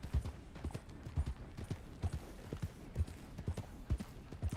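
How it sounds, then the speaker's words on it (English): Horse hooves clip-clop at a steady, even rhythm during a ride in Red Dead Redemption 2, a close and continuous beat with no voices over it. "This is a long horse ride,"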